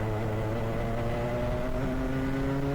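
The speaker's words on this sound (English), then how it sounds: "Oh, the sound of these cars is beautiful." Club 100 racing karts at Whilton Mill circuit roar steadily, several engines droning together at a constant loud pitch with overlapping tones, continuous with no talking.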